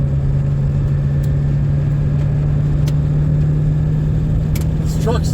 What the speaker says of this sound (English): this truck's still not a rocket ship, but with this 3-inch downpipe and the 4-inch exhaust